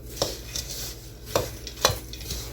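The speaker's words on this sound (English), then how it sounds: "we're going to mix all this stuff up" No-bake ice box fruitcake ingredients mixed by hand in a bowl, a few distinct close thuds and scrapes spaced irregularly over a quiet background.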